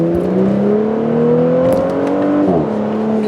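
Audi RS7 with a louder exhaust, engine droning and rising steadily in pitch as it pulls, then a brief dip near the end, heard from close by.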